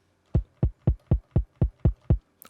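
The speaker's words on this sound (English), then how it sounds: "Next, we go to the kick drum" Eight clean, evenly spaced kick drum hits thump with deep low punch, dry and isolated, followed by a brief faint click at the end.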